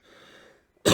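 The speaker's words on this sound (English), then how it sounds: "Yep, still got my cough." A single sharp, loud cough bursts out near the end after a faint, quiet stretch, from a person undergoing chemotherapy for cancer who has a lingering cough.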